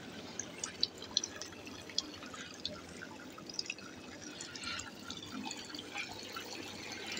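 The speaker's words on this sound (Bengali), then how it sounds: "বাইশেরা চারদিক দিয়ে পানি পড়তেছে।" Water drips all around a semi-controlled poultry shed, with scattered distinct drops landing over a soft steady trickle, fairly quiet throughout.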